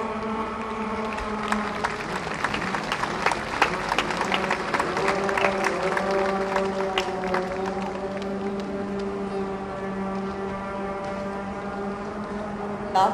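Steady applause from an outdoor crowd at a flower-lovers' gathering, a dense patter of many hands clapping that holds fairly even for over ten seconds before thinning slightly toward the end.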